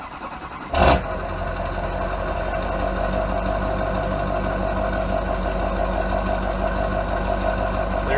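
A Duramax LB7 diesel pickup engine idles steadily with a low, even rumble, after a brief louder burst near the start, and continues unchanged without speech.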